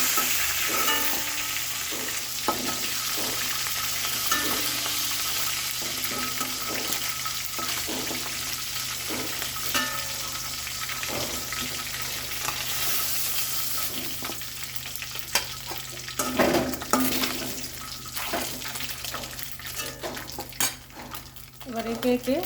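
Bhetki (koral) fish pieces frying in hot oil, a steady dense sizzle running throughout with scattered clinks and stirring scrapes of a utensil in the pan, louder bursts near the end.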